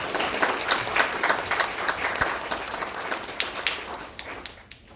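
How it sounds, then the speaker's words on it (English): An audience gives steady applause to welcome a speaker at a talk on ethical design. The clapping is dense and moderately distant and fades out toward the end. "let's give her a round of applause"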